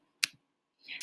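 Computer mouse clicking on picture symbols on a school login screen: two sharp, close clicks spaced under a second apart, with a faint rustle just before the second one.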